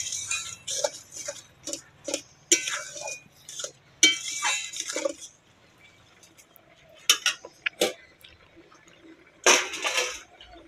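A spoon stirs a crab and sour okra curry in a pan after ground cumin is sprinkled in, producing close clinks and scrapes of metal on the pan in bursts with quiet gaps between.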